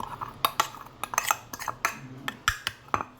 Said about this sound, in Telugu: ఆ స్పూన్ ఒక గ్లాసులో వేసేసుకుని మంచిగా కలుపుకోవాలి పిండి అయ్యేంత వరకు